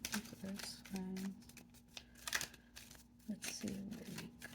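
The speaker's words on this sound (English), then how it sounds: "Just a big shuffle there for the earth signs." Tarot cards being shuffled in a big riffle, with soft papery rustles and flicks heard under a person talking throughout.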